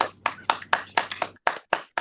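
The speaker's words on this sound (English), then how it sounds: "Golf clap." Golf clap, quiet polite hand clapping: roughly nine sharp, evenly spaced claps from one person, close and distinct, in a slow steady rhythm.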